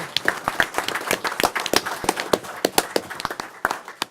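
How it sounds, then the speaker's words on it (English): Audience at a board meeting in Oak Lawn clapping for a family, a crowd of individual sharp claps in a loose, uneven rhythm, fairly close and steady for several seconds without talk. "One more round of applause for the family."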